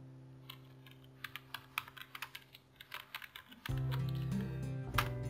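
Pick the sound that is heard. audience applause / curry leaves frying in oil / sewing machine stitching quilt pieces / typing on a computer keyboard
typing on a computer keyboard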